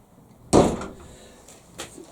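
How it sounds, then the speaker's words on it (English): A door is shut with a single loud, close thud that fades into a low rumble. A fainter knock follows a moment later. "Shut this fucking door because I'm telling you."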